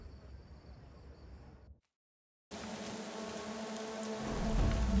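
Steady rain in the video game Thief, a soft continuous hiss of falling drops that cuts out briefly, then returns fuller with a low rumble building underneath.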